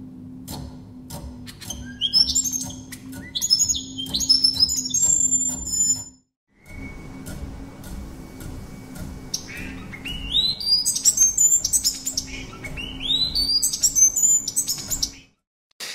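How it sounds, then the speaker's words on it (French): Lively birdsong from a bird whose courtship display involves rhythmic tap-dancing steps, with repeated bright chirps and trills over a steady low rustling rumble, pausing briefly midway and then resuming with sweeping whistled notes. "Cet oiseau qui fait ses claquettes"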